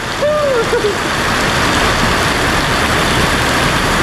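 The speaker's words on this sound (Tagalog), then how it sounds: "Grabe oh, mas lalong lumakas yung ulan." Heavy rain pours in a dense, steady hiss, loud and close, with a brief voice at the start.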